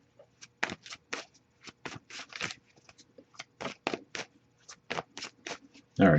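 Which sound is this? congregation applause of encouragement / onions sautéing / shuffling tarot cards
shuffling tarot cards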